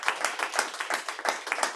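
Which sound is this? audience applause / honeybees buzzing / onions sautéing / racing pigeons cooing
audience applause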